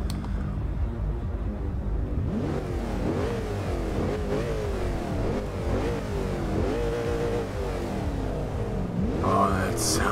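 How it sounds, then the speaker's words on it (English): A 2005 Mercedes-Benz SLR in Forza Horizon 2 revs its exhaust repeatedly, engine pitch sweeping up and down in a series of loud, close throttle blips that continue for the whole stretch. "Let's quickly see what the exhaust sounds like."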